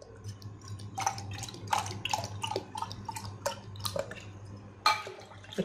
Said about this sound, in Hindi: और अगर खुला दूध इस्तेमाल करें तो इसके दो गिलास डाल लें दूध के